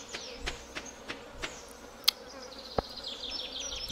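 Bees buzzing around beehives in the farming video game Stardew Valley, a close steady insect drone with a few soft rhythmic taps and two sharp clicks, no talking.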